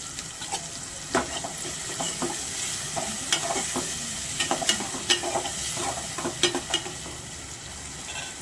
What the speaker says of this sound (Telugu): ఒక 10 నిమిషాలు టమాటాలు ఉడకాలి.